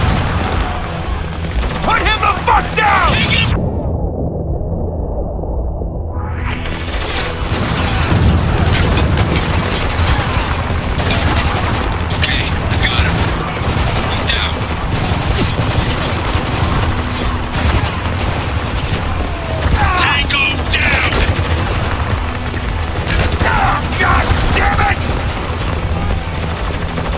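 Dense, loud gunfire fills a battle in the video game Spec Ops: The Line, with sustained automatic bursts and booms running almost continuously, a brief muffled lull near the start, and shouted voices mixed in.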